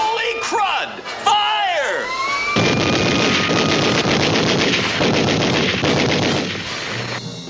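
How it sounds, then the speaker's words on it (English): Rapid cartoon gunfire crackles loudly and continuously for several seconds, a dense volley of shots with crowd-like yelling, following whooping and sliding cartoon sound effects at the start. "What's that shooting?"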